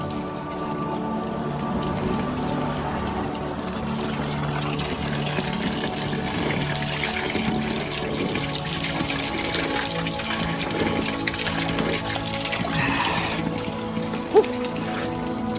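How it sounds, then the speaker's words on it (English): Well water flows steadily in a continuous pattering, rain-like wash of moderate loudness, with a low hum underneath and one brief click near the end. "I came down here to this water, to the well water."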